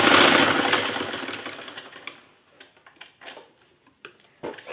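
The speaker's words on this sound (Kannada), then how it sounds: "ಸ್ಟ್ರೈಟ್ ಏಕ ಹೊಲಿಗೆ ಹಾಕ್ಕೊಳ್ಳಿ." A sewing machine runs a straight single seam, its dense mechanical whir loud and steady for about two seconds before cutting out, followed by scattered ticks and light handling noises.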